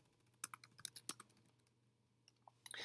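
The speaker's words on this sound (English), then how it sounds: "let me just type something that's going to make my life a little easier here" Close, quiet typing on a computer keyboard while working on a 6502 homebrew computer, with a quick burst of crisp clicking keystrokes, a short pause, then a few more taps and no talking.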